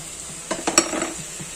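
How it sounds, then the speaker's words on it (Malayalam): Tuna pickle masala bubbling in a pan for a Kerala-style fish pickle, heard as a soft sizzle with a few sharp spoon scrapes and clinks against the pan, brief and close, no speech. "ഇതൊന്ന് തിളയ്ക്കുമ്പോൾ ഇനി നമ്മുടെ മീൻ കഷ്ണങ്ങൾ പറക്കിയിടണം നല്ലോണം തിളയ്ക്കട്ടെ"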